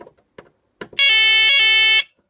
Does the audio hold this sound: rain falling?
no